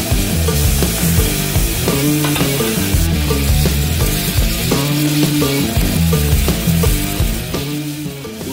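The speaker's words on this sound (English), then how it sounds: "Listen to those steaks sizzle." Loud, steady sizzling of ribeye steaks frying in a hot pan, with continuous crackle and a heavy low rumble throughout.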